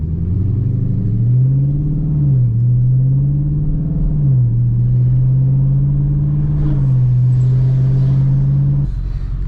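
A car with a newly fitted loud aftermarket exhaust pulls away from a stop, its deep droning rumble climbing through gear changes, close and loud for the whole stretch.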